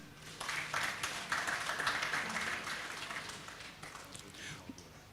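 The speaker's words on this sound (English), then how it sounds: "we are calling on a clap for him" An audience at a town hall discussion on higher education claps for a speaker, a spread-out burst of applause from many hands that swells quickly and fades over several seconds.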